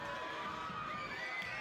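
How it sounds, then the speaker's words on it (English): Crowd noise at a Perth Lynx women's basketball game against Geelong United: a steady, fairly distant arena murmur with some cheering, lasting under two seconds with no pause. "Crowd getting up and about"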